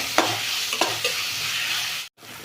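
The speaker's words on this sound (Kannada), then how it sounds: "ಇದು ಎಣ್ಣೆನಲ್ಲೇ ಚೆಂದ ಫ್ರೈ ಆಗಿ ಹುರಿದಿರೋದ್ರಿಂದ ಜಾಸ್ತಿ ಟೈಮ್ ತೊಗೊಳ್ಳಲ್ಲ ಬೇಗ ಫ್ರೈ ಆಗುತ್ತೆ" Potato and onion frying in oil with curry leaves, a steady soft sizzle broken by a few sharp stirring scrapes early on and a brief silent gap near the end.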